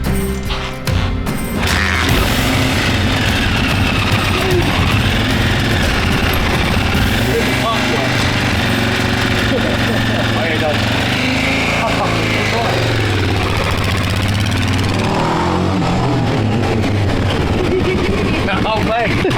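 A restored 1980s Honda XL600R motorcycle runs on a ride, its engine droning loudly and continuously under heavy rushing wind noise for the whole stretch.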